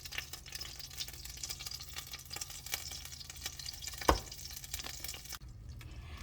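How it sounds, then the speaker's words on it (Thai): Mushrooms and bell pepper stir-fried in a pan for a Thai dish: soft sizzling with repeated scraping and tossing strokes, fairly quiet, with one sharper clatter partway through. "ผัดเห็ด"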